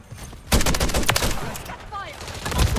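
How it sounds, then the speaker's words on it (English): Gunfire in Call of Duty MW3 from a Jak Jawbreaker kit weapon, loud close bursts of rapid shots with sharp repeated cracks filling the clip, game noise and some talk beneath. "I only got eight shots left."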